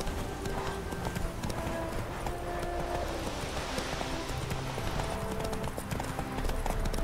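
Horse galloping under a rider in the video game The Witcher 3: rapid, rhythmic hoofbeats pound steadily and close up over a dense background of game sound.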